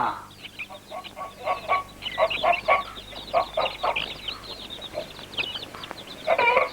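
Several chickens cluck busily nearby, short repeated calls overlapping in an irregular, chattering rhythm.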